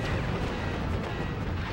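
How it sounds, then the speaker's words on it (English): Fireworks burst in the video game Skygunner as a dense, continuous roar of loud crackling blasts, filling the whole short stretch without pause. "But the fireworks didn't do too much"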